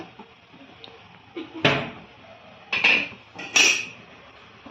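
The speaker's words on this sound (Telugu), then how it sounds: "మూత పెట్టేసి చూడండి ఇంతే." A lid is set on a cooking pot of ulavacharu, a horse gram soup, giving three or four sharp metallic clanks and knocks spaced about a second apart over a quiet kitchen background, with no talking.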